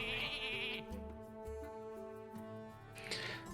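Sheep bleating in the Hearthstone card game after a polymorph spell, a short series of quiet, tonal game bleats over soft background music.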